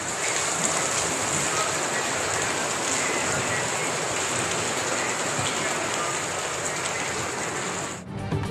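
Steady rain falls across Lahore, a dense continuous hiss of drops on surfaces, loud and unbroken for several seconds before cutting off abruptly near the end.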